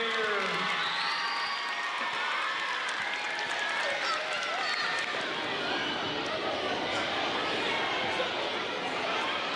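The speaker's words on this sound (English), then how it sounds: "One more big round of applause for our music students of the year." A school awards ceremony crowd applauds the music students of the year with steady, dense clapping and some cheering. The sound holds at one level for the whole stretch, with crowd chatter mixed in.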